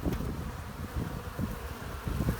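Honeybees fly in to land at the hive, their legs loaded with yellow pollen, making a dense, steady buzz close by, with no talk.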